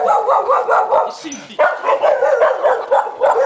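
A dog barks repeatedly, close by, mixed in with a steady stream of people talking over it during a comic chicken-catching skit.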